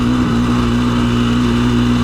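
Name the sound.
dirt bike engine buzzing while riding (KTM 350 EXC-F or Suzuki DRZ400)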